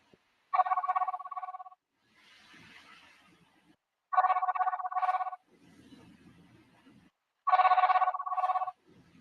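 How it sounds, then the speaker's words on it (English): A telephone rings in three loud, evenly spaced bursts with gaps between them, while faint murmuring sounds fill the pauses. "call our Sister Karima if you got a phone number"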